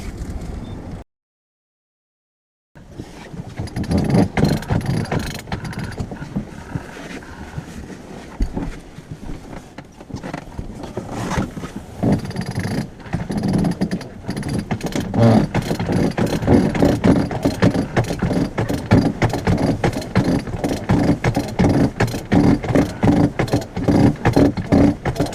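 On a 26 ft sailboat coming about at a race start, winch ratchets click rapidly and rigging clatters over steady wind and water noise. A brief full dropout comes near the start, and no one speaks.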